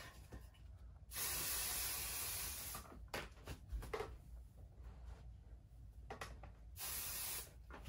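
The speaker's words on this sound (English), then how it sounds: "we're gonna spray that with the temporary adhesive" Two sustained bursts of temporary adhesive spray hiss from an aerosol can, separated by quiet handling noises and a few short clicks.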